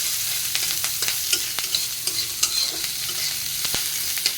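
Onions fry in a very hot wok: a steady, close sizzle with light, irregular scraping and clinking as a spoon stirs them.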